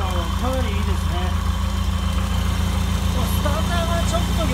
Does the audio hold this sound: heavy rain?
no